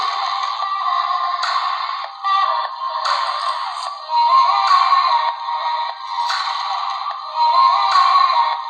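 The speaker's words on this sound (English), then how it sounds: "these speakers are decent in quality, but they're not very loud and there's no bass" Music plays at max volume through the small, tinny speakers of an MSI Modern 15 laptop, all mids and highs with no low end, sounding thin and boxy in pulsing phrases.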